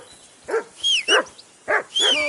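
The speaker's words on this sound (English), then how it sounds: "Call off that damn dog before he wolfs down the last of our meat." A hungry dog makes a run of sharp, yippy barks and yelps near a camp meal of meat, five quick bursts spaced about half a second apart, close and fairly loud with no talk over them.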